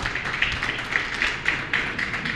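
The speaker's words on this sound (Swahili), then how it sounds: "Tuwapigie makofi jamani." An audience at a food literacy forum on community movements and the right to food claps steadily, a dense spread of hand claps with no one speaking.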